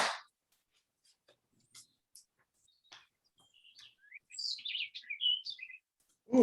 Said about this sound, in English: Ooh, somebody has some nice birds.